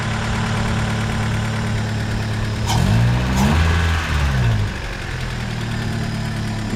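A Honda EK coupe engine idles quietly and evenly, with a steady low hum and a brief revving swell partway through before it settles back to idle.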